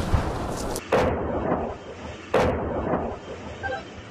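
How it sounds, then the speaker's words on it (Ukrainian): Two heavy, sharp blasts from a BM-21 Grad rocket launcher firing on the front line near Soledar, each booming report followed by a rumbling decay under steady background noise. "BN-21 冰雹火箭炮一发一发往俄军发射"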